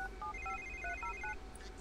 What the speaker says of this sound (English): Is that her phone this time?